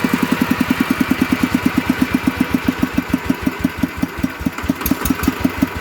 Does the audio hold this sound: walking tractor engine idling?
yes